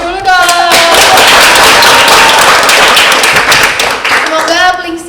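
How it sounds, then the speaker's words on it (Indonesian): An audience claps enthusiastically for an Indonesian girl group visiting a government education office, a dense, loud burst of clapping that starts abruptly and tapers off, with a voice briefly heard before and after. "Tepuk tangannya dulu dong."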